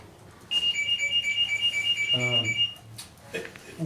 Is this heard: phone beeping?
yes